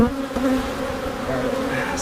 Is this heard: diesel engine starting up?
no